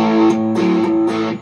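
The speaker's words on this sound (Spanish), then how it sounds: "Ahora me voy al modo Marshall." Jaminabox guitar pedal by Pedalcluster in its Marshall mode with less distortion and more balanced bass, a few loud electric guitar chords strummed in quick succession, close and brief.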